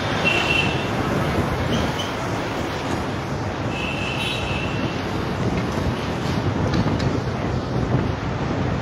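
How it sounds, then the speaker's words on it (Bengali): Cool wind off the Ganga blows across Howrah Bridge in Kolkata, a loud, steady roar of buffeting gusts on the microphone with a faint rumble of traffic beneath. "অসাধারণ গঙ্গার হাওয়া পাচ্ছি। কি সুন্দর ঠান্ডা হাওয়া।"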